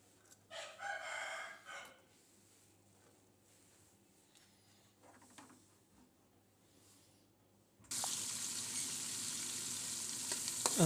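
Chopped onions frying in two to three spoonfuls of oil, a loud bright sizzle bursting in near the end after a quieter stretch with faint scattered kitchen sounds.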